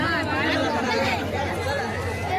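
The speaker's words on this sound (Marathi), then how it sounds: "बघा मित्रांनो काय गर्दी आहे" Dense crowd chatter fills a village temple fair (jatra), many overlapping voices forming a continuous loud babble close by.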